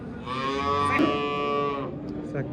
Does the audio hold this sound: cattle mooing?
yes